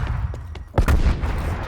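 A flashbang grenade bursts in a tactical video game, a sharp close boom with a rumbling tail over steady game noise, after a few fainter pops earlier.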